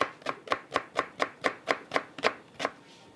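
A knife chops an onion on a board in a Peruvian kitchen, about eleven crisp, evenly spaced cuts in a steady rhythm, close and clear with no talking.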